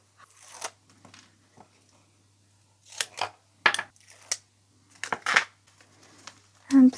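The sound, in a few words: scissors cutting out a shape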